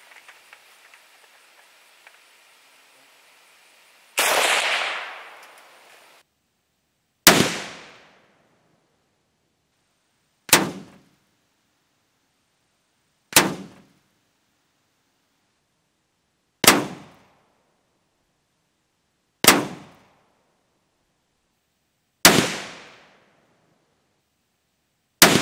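Eight sharp, loud AK-47 rifle shots in 7.62x39 ring out outdoors, each a sudden crack with a short decaying tail, spaced roughly three seconds apart with near silence between them.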